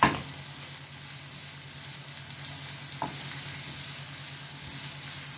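Onions sautéing in a pan give off a continuous, even sizzling hiss, close and steady, with a single sharp clink at the start and a faint tap midway; no voices.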